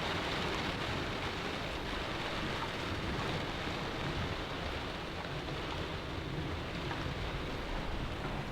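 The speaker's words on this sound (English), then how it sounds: "So that is the rain moving in." Steady rain sweeping in during a strong storm at a truck campsite, a dense continuous hiss with low rumbling underneath, loud and even throughout with no voices.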